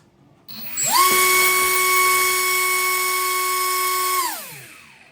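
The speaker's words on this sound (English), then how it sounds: "The 5 1/4 inch Amazon 3-bladed fixed propeller." An RC electric motor spins a 5.25-inch Amazon three-bladed fixed propeller, rising quickly to a loud, steady high-pitched whine that holds for a few seconds, then winds down smoothly.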